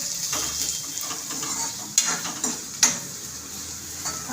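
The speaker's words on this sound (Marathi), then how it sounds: "मीडियम फ्लेममध्ये तुम्हाला कांदा भाजून घ्यायचा आहे." Chopped onions fry in a pan over a medium flame for a Marathi matki bhaji, giving a steady broad sizzle with a few sharp scrapes and clinks of a spoon stirring. The sound is close and there is no talk.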